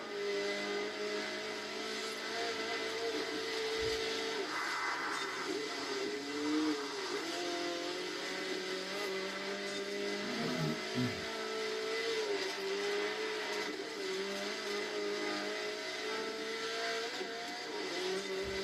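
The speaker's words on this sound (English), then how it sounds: "I'm bored of 4-cylinder noise now." A four-cylinder car engine in Forza Horizon 4 drones and revs continuously, its pitch rising and falling with gear changes, with occasional thumps and brief tire scrubs.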